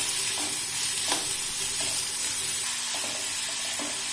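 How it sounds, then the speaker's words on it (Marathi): Finely chopped onions sauté in hot oil with crackled mustard seeds and cumin, giving a constant close sizzle with a few distinct clinks and scrapes from stirring. "त्यानंतर आपल्याला 2 बारीक चिरलेले कांदे घालायचे आणि कांदा चांगला मऊ होईपर्यंत परतून घ्यायचा आहे।"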